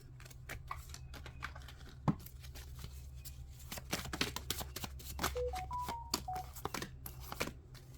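Tarot cards are drawn and slid from a deck at close range, with quiet repeated papery flicks and taps and a few scattered louder snaps. A faint steady hum sits underneath throughout.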